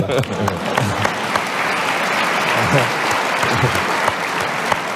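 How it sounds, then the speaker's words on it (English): Audience applause, dense and sustained clapping from a crowd with scattered cheering, loud and continuous throughout. "I think that deserves an applause."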